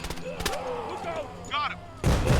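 A frag grenade explosion in the video game Door Kickers 2 bursts loud and sudden at the end, after sharp gunfire cracks and brief game sounds earlier.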